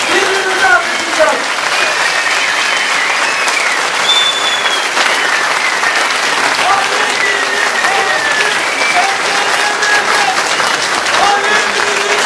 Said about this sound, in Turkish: Ben hepinizden bir kez daha ayakta bir alkış rica ediyorum.